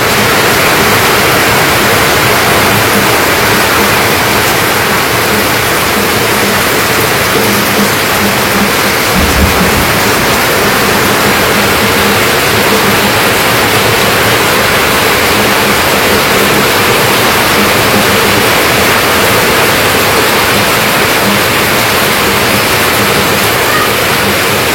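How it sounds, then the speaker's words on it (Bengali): Heavy morning rain pours over a Bangladeshi village in a dense, loud, unbroken roar that stays steady throughout, with no voices. "সকাল সকালে বৃষ্টি শুরু হয়ে গেছে।"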